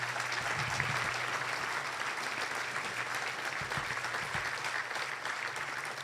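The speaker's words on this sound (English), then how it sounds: "so another big round of applause for them." Luncheon audience applauding scholarship recipients at a Rotary Club gathering, steady dense clapping from a sizable room sustained throughout, with a low hum underneath.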